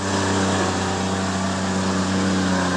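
Truck engine labouring on a rain-soaked, muddy dirt highway, a steady continuous drone with strong low harmonic hum, loud and close, no voices.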